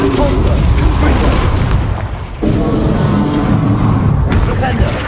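Spell explosions from Hogwarts Legacy gameplay on PS5: a dense, loud barrage of booming blasts and bursts, rolling almost without pause, easing briefly near the midpoint before erupting again.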